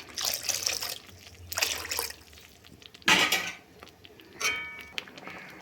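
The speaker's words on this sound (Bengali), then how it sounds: "এখন আমি একটু জল দেব।" Water pours in several short splashing bursts into a pot of lentil dal cooked with goat fat, close and fairly quiet, with brief pauses between pours.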